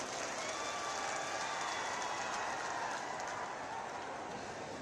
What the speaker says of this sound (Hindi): एक बार जोरदार तालियों की गड़गड़ाहट से स्वागत करें।